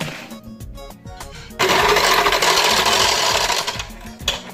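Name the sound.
electric mixer whipping cheesecake filling with Oreo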